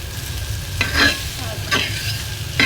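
Fried egg being stirred into cooking banana stem in a frying pan, with a steady close sizzle of oil under three distinct scraping strokes of a spatula.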